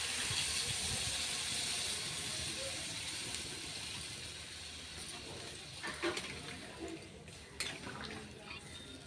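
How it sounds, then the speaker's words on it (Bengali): Water is poured into a pan of potato curry (aloo dum) as it cooks. A soft, steady wash of pouring and hissing is heard, with a few faint splashes and clinks near the end. "এবার দিয়ে দেবো আমি পরিমাণ মতো জল।"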